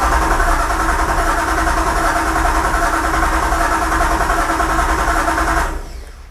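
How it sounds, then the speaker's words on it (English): A 392 Hemi V8 with its fuel pump disconnected cranks over on the starter, a loud, steady, rapid churning drone that runs for about six seconds and then stops abruptly. "So I want to go ahead and crank the engine a little bit."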